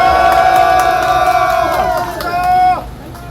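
A large crowd at a Friday political rally cheers and shouts loudly, with a sustained pitched tone running through the din that breaks off near the end.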